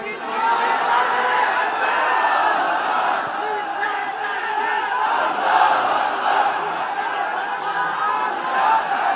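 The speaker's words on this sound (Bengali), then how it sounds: "তাকবীর দেন তো একজন আওয়াজ করে।" A large crowd at an Islamic religious gathering shouts the takbir in unison, a loud, sustained roar of many voices that rises and falls for several seconds, heard close.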